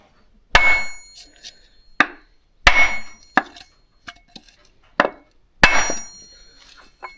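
A hammer taps a new shim into an MTZ tractor gearbox, delivering about eight sharp metallic knocks at irregular intervals, some louder and ringing, others lighter, with quiet gaps between.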